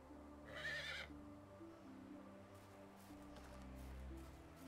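A horse in the video game Medieval Dynasty whinnies once in a loud, close neigh early on, followed by soft hoof clip-clops and faint ambient game sounds.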